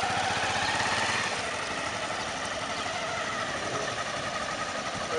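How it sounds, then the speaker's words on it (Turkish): A motorcycle engine starts and runs steadily nearby, a continuous rough idle drone that holds without pause. "Ve motosiklet startı."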